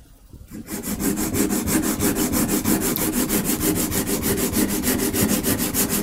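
A woodblock carving knife being sharpened, rubbed steadily back and forth against a stone in a fast, even rhythm of raspy strokes that runs close and loud throughout, with no talking.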